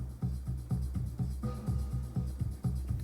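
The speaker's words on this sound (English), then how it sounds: "slowly increase the amount of hi-hats" A drum track programmed on an Akai Force, its hi-hats ticking steadily over punchy kicks in a tight repeating groove, played loud and clean with no voices.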